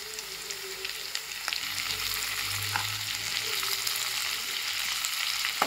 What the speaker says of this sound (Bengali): এবার আমি পেঁয়াজগুলো দিয়ে দেবো এতে